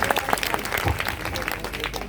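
A crowd at a gathering claps enthusiastically for Sushil Bhaiya, a dense burst of applause with sharp individual claps, fairly loud and close throughout.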